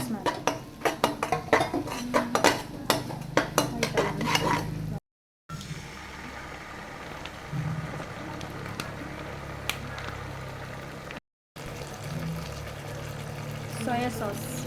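Metal spoon scraping and clinking steadily against a pan while fried egg 65 pieces are stirred with green chilli and curry leaves, busy and close, with a couple of brief gaps.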